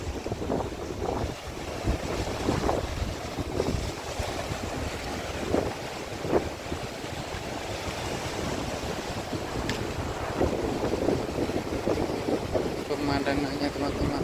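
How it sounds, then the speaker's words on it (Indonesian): Sea waves break on the shore at Natsepa beach in Ambon, a steady wash of surf under heavy wind buffeting on the microphone, with a voice talking over it. "Ini ombak lagi pas lagi turun."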